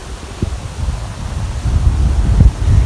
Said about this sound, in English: Boy, it is so windy today.